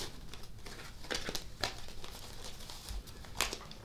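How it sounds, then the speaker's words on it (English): A deck of tarot cards shuffled by hand, giving soft, quiet riffling and crinkling with scattered sharper card snaps over about four seconds, and no voice. "Let me shuffle."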